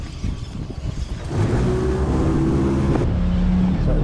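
The Wellington cable ferry on the Murray River, which runs on a pulley system, rumbles into a steady low engine drone with tonal hum after a gusty, windy start, loud and close throughout.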